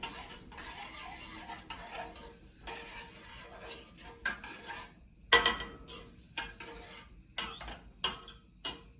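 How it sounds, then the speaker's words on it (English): Seasonings are stirred into melting butter in a pot. Quiet scraping gives way to sharp, close taps and clinks of a utensil against the metal, coming in irregular bursts over near-silence. "Let me get all these seasonings stirred in as well."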